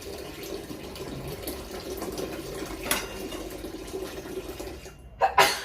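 Water runs from a tap into a small bucket in a home, a steady close trickle and splash, with a couple of sharp knocks and clatters near the end.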